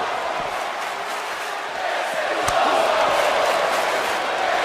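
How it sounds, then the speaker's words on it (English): Virtual arena crowd in the WWE 2K22 wrestling game roaring and chanting during a match featuring Sami Zayn, a loud continuous wash of massed voices that swells slightly midway. "The crowd rightfully chanting, "This is awesome.""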